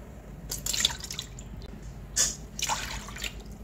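Water goes into a pan in the kitchen with a few light splashes and drips in short bursts, fairly quiet and close, with no voices.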